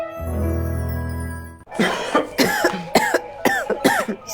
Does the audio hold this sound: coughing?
yes